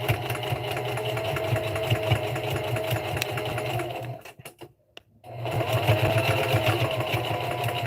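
Sewing machine stitching a fall tote bag seam made from dollar-store fabric, a steady close mechanical whir that stops briefly in the middle for the back stitch, then runs on again.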